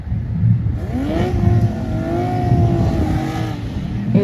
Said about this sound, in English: Both these cars sound super beautiful, looking really beautiful as well.